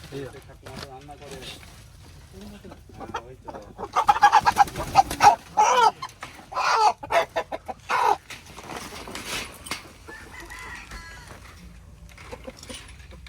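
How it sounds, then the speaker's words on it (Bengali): Chickens on a poultry farm cluck and squawk loudly in a busy burst midway, with quieter scattered clucks before and after, while people talk nearby. "এখানে চারিদিকে শুধু মুরগি আর মুরগি এটা পোলট্রির ফার্ম"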